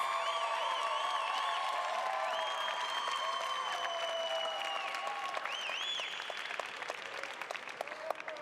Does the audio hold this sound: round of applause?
yes